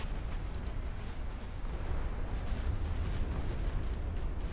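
An enemy battleship explodes and sinks during a naval battle in Ultimate Admiral Dreadnoughts. A steady, heavy low rumble rolls on throughout, with faint crackles above it.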